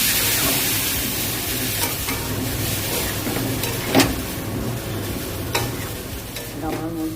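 Biryani rice is stirred into a pan of prawns, with loud continuous sizzling under repeated scraping strokes and an occasional sharper knock of the spoon.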